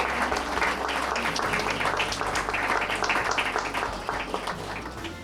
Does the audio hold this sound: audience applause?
yes